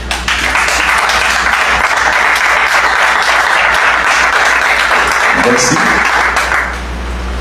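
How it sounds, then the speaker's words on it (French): Students in a hall break into loud, sustained applause that fills the room for several seconds, steady dense clapping that fades near the end, with a brief spoken word over it. "je vous demande de vous acclamer"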